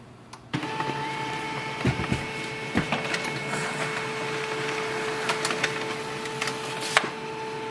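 An HP LaserJet Tank laser printer runs steadily with a mechanical whir and hum, broken by several sharp clicks and clacks as the page feeds through.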